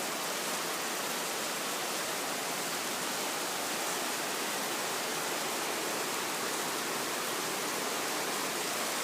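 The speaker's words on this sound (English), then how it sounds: "Rain has gotten a bit more brutal." Heavy rain pours steadily during a late-night thunderstorm in Riga, a dense, even hiss that holds without a break, close and fairly loud, with no thunder or voices standing out.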